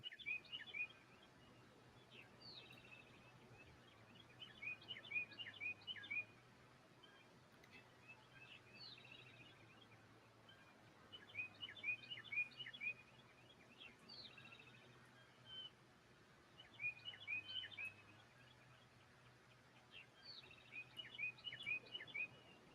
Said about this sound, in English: I can't change the birds, Ron.